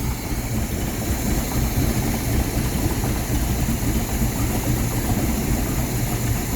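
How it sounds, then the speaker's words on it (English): A carbureted engine with a Rochester Quadrajet carburetor idles close by during idle-screw tuning, its rough, uneven rumble wavering and stumbling continuously, with no talking. "the engine is becoming a bit more erratic"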